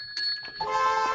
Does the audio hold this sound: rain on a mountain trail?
no